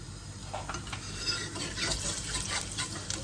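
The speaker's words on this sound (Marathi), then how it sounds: "तेल गरम झालंय यात हिंग टाकायचं त्यानंतर जिरे मोहरी टाकायचे" Asafoetida, cumin and mustard seeds sizzle in hot oil, making a steady light crackle with scattered small pops and no voices.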